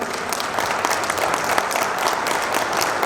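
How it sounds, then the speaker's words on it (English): A room full of people at an Indian community event claps in a full, even round of applause, loud and continuous from start to finish. "From India, please, a round of applause"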